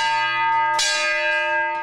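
A fire station alarm bell at Central Fire in the Quad Cities is struck once with a loud, ringing clang. Its sustained metallic tone hums steadily before and after the strike, close and alone.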